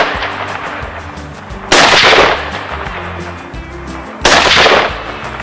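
Two loud, sharp rifle shots from an AR-15 with an 18-inch bull barrel and Nikon M223 scope, fired outdoors at a 100-yard target, spaced a few seconds apart with brief ringing decay after each.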